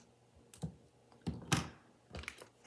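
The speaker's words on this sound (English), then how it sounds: "Get my snips. And we're going to cut that off." Metal craft snips cutting through paper while making a shaker card, several sharp crisp snips close up at an irregular pace on a quiet background.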